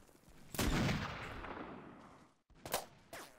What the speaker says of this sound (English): they're definitely shooting me